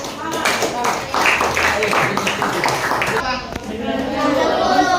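A classroom of students claps hands together in a lesson, a busy patter of scattered claps mixed with chatter and voices, fairly close and steady for several seconds.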